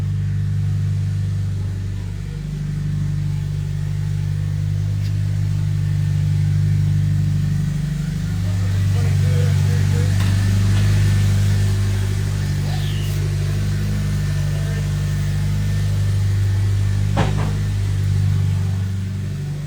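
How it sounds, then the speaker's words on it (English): A car engine runs on a dyno in a performance shop, continuous at a loud, sustained pitch, droning and rumbling steadily with slight rises and falls, nearby and without talk. "it's kind of hard to hear with the car on the dyno"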